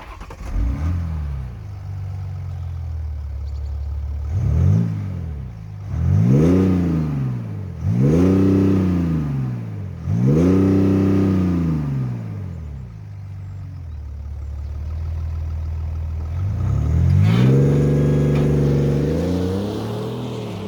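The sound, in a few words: BMW X5 diesel engine revving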